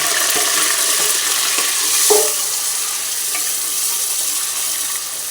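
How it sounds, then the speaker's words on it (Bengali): Onions tipped into a hot pan with spices for beef biryani and stirred, a dense close sizzle with scraping spoon strokes and a brief louder burst midway, no talking. "এবার আমি পেঁয়াজটা দিয়ে দেব"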